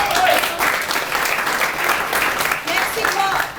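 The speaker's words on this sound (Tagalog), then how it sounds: "Palakpak naman." An audience claps loudly and continuously at a talk, a dense, close burst of applause that holds steady throughout.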